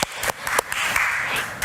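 An audience applauds after a panel discussion at a Europe forum, giving a short burst of scattered clapping at moderate volume.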